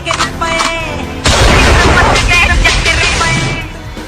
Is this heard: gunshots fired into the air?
yes